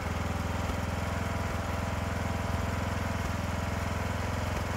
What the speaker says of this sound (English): It had a steady, rough idle to it because it was just a little bit too rich.